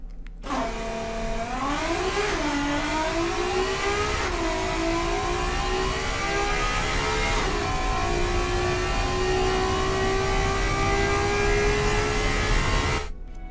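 V6 engine of a 915-kilogram, 250-horsepower car in the Automation game, revving up with rising pitch, shifting, then holding a long steady high whine before cutting off abruptly.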